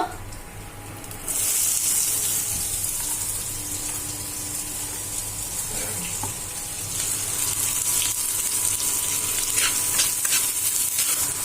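Onions go into hot oil in a home kitchen pan: after a quiet start, a loud, close, continuous sizzle rises suddenly and holds steady with light crackles.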